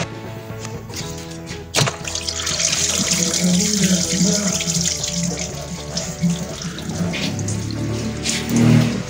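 Engine coolant runs out of a detached lower radiator hose on a Renault K4M engine during a timing belt job, a steady splashing gush of liquid lasting throughout with a couple of brief knocks.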